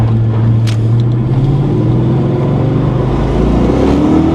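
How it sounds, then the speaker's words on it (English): Foxbody Mustang engine revving under throttle while driving, a loud, steady, close engine drone with pitch rising gradually through the clip. "we'll give it a little bit of throttle, make sure that she can handle throttle"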